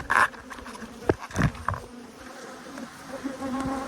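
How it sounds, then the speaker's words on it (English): A low, steady insect buzz of a honeybee colony hums throughout, with a few brief louder knocks and rustles near the start. "Loads of lovely bees, prolific queens."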